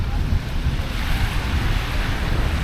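Sea waves wash ashore at Kulasai beach near Tiruchendur and Manappad, a steady broadband roar of surf mixed with wind buffeting the microphone, continuous and close, with no voices.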